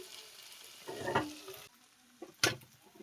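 Prawn and taro chorchori being scooped from a hot pan onto a plate: faint scraping and stirring with a light sizzle, then a brief sharper clink of the utensil, close and quiet with no talking.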